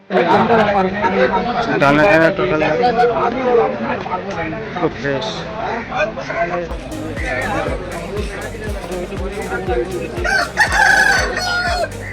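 Chickens cluck and a rooster crows amid loud chatter from people talking nearby at a busy animal and bird market, with background noise throughout.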